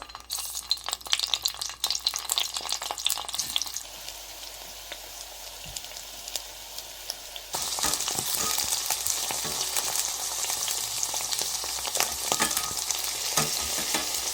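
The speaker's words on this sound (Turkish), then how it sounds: "Yağ kızdıktan sonra patlıcanları tek tek kızartalım." Oil sizzles and crackles steadily as eggplant fries, quieter at first, then surging louder and denser as more slices hit the hot pan; occasional stirring clinks.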